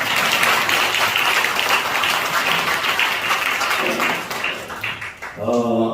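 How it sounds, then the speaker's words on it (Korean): Dense applause from a congregation at a church service fills most of the clip, steady and loud, then thins out near the end as a brief tonal sound comes in. "신부 입장할 때는 박수가 필요합니다"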